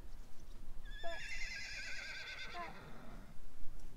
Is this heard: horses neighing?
yes